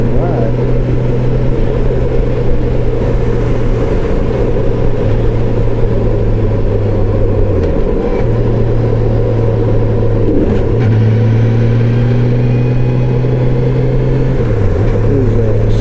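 A motorcycle cruises the scenic loop near Fort Davis, Texas, its engine droning steadily and loudly under wind rush, with a few gear shifts changing the pitch.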